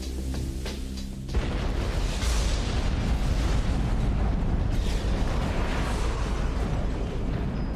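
A dramatized explosion for a documentary about a hotel collapse in Singapore bursts in after a moment, then becomes a loud, sustained roaring rumble that fills the rest of the clip.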